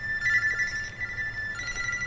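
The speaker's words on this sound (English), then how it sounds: "Oh, my phone." A mobile phone rings steadily nearby, an electronic ringtone pulsing in short repeated bursts over a low background hum, with no talk.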